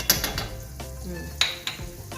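Garlic frying in butter in a pan, soft sizzling with a few sharp utensil clinks and scraping stirs, fairly quiet and close.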